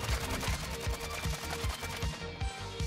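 Rapid automatic gunfire in the battle royale game Warzone, a dense continuous burst of loud, evenly spaced shots that carries on throughout.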